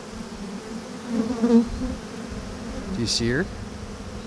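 A dense swarm of honeybees hums steadily during a hive transfer, close and continuous, while a person speaks briefly over the buzzing.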